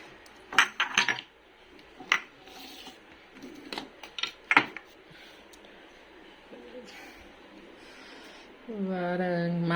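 Kitchen containers and utensils handled while being washed, with clinks and clatters of cutlery and dishes in irregular bursts, followed by steady running water at the end.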